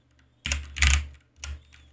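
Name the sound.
typing on computer keyboard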